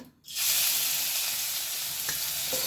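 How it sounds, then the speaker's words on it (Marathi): Grated carrot dropped into hot ghee in a pan for carrot barfi, bursting into a loud, steady sizzle after a brief quiet start, with a couple of faint clinks near the end. "तूप तापलेलं आहे, यामध्ये आपण गाजराचा किस घालून घेणार आहोत।"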